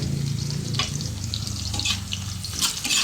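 Garlic and onion frying in a pan while being stirred, a steady close sizzle throughout with soft scraping and a low hum underneath, no talking.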